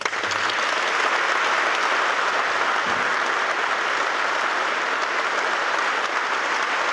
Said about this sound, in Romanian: Înainte să părăsească scena, Marin Maxian a primit flori și a fost aplaudat de colegi.